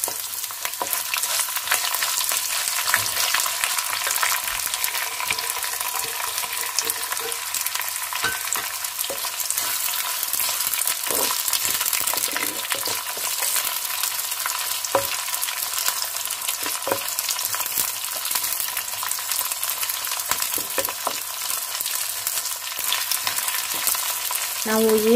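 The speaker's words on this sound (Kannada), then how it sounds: "ಈಗ ನಾನು ಈರುಳ್ಳಿಯನ್ನು ಹಾಕ್ಕೊಳ್ತಾ ಇದ್ದೀನಿ." Chopped onions sizzle in hot oil with chana dal, urad dal and curry leaves for tomato gojju, a steady close frying hiss broken by scattered scrapes and taps of stirring.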